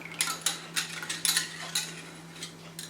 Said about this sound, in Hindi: अच्छी तरह तमाम चीज़ों को इसमें मिक्स करें।